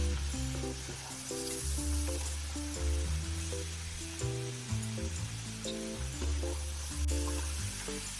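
Potato french fries sizzle steadily in hot oil, a constant bright hiss running throughout, partly covered by melodic background music.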